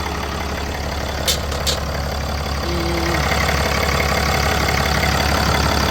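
Ram 3500 pickup engine idling steadily during hydraulic brake booster work, a continuous low rumble close by with a faint brief knock or click near the start and no talking.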